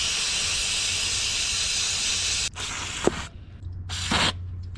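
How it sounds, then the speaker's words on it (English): Aerosol cleaner sprays in a steady hiss into a dirty electrical connector on a Chevy LBZ Duramax, then breaks into a few shorter bursts with faint clicks between them. "So I'm gonna spray some cleaner in there and try to get a lot of that crap out of there."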